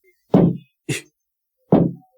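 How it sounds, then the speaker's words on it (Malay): Something knocks on the roof of a lorry: three hollow thuds, two close together and then a third after a pause, sharp and near against silence. "Tiba-tiba terdengar seolah-olah ada benda mengetuk dekat atas bumbung lori tu."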